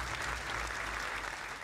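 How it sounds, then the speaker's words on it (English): Clapping sound effect played as a dense, continuous wash of applause from a crowd, steady throughout and with no voices over it. "Insert clapping."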